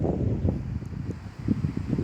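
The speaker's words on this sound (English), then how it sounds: "windy out here" Gusty outdoor wind buffets the microphone in low rumbling bursts, steady and close, with a faint rustle behind it.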